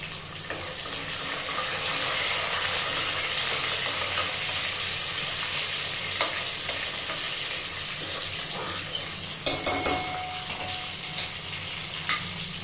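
Chopped green chillies tip into a pan while cooking dal, a steady broadband sizzle and stir running throughout with a few sharper clinks near the end; no one speaks.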